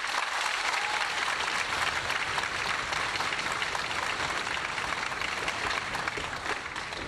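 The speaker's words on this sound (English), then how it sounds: "Can we give them all a round of applause?" Audience applause at a high school orchestra concert, dense and loud clapping from a large crowd that stays steady for several seconds and fades slightly at the end.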